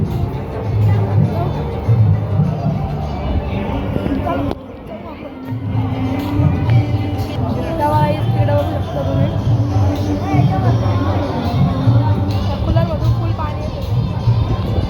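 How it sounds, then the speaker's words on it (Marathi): Dense crowd hubbub in a packed, jammed gathering, a continuous loud babble of many voices close around, with a short dip partway through before the chatter swells again. "जाम गर्दी आहे जाम म्हणजे जाम आहे"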